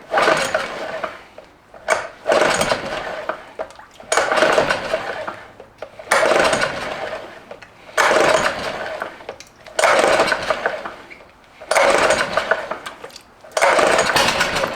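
Yamaha outboard motor pull-started with the choke on: about eight rhythmic rope pulls, each a rasping whirr of the cranking engine lasting a second or so, close up and fairly loud, without the engine catching.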